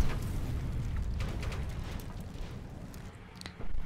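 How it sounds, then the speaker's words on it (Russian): Tank explosion in the Hills Of Steel video game: a sustained, loud low rumbling blast with crackling debris that fades slightly, then a fresh low burst near the end. "он сам себя подзорвал"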